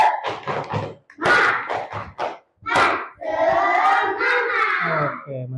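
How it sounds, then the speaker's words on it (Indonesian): Students in an Indonesian classroom perform the tepuk semangat chant: quick bursts of rhythmic group clapping alternate with loud voices shouting in unison, ending in a drawn-out collective cheer. "Tepuk semangat dulu, tepuk semangat."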